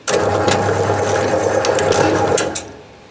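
An MZ-400E3K semi-automatic thread rolling machine runs with a steady, loud mechanical whir and faint rhythmic ticking, then winds down and stops near the end.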